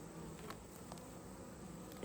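Honey bees buzz steadily around open brood frames of a large hive, a dense close hum that carries on without a break.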